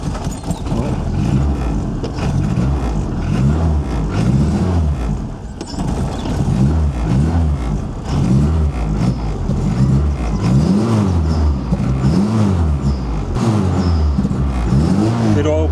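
A Honda B18 engine cranks and then starts, settling into a loud, steady idle with rhythmic pulsing throughout, heard close up.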